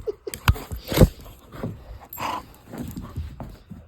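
A playful dog named Alex panting and scrabbling close by indoors, quick breathy pants with soft whimpers, thumps and scrapes of paws, loud and uneven with no speech.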